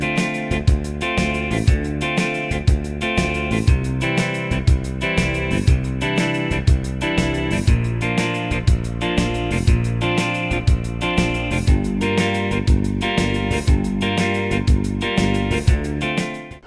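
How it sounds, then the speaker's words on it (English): A synth bass line from the BlueARP arpeggiator plays in a steady, swinging pattern. It sits under a full, busy electronic mix with a regular beat that continues throughout. "Let's add some bass because it sounds really nice. Yeah, this is our bass."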